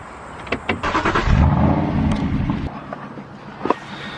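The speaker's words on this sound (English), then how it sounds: "Sounds better with the exhaust there." A Ford Focus engine revs and rumbles up close, its exhaust note swelling for a couple of seconds and then settling into a steady idle, with a few clicks around it.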